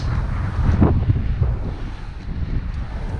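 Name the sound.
cool ocean breeze at Newport Beach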